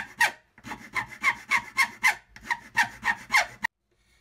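Wooden hull planking on a model ship of the battleship Yamato is sanded by hand in quick, rhythmic back-and-forth strokes, about a dozen close, crisp rasps before stopping abruptly into silence.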